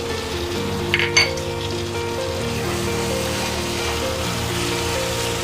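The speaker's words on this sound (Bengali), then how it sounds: "যে ভাজা আলুটা আমি এখানে রেখেছি সেটা আমি এর মধ্যে অ্যাড করে দিলাম" Fried potatoes go into a sizzling Bengali chicken curry, with a steady loud frying hiss throughout and a couple of brief clinks early on.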